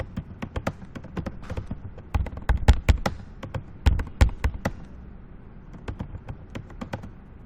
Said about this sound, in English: when I type what I'm typing now, I'm using the input device, the keyboard